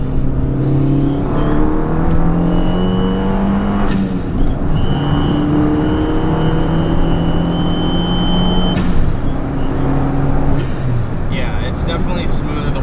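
A modified Fiat 500 Abarth engine pulls steadily under acceleration while driving, its droning tone rising through the gears with loud cabin noise throughout, and people talking over it.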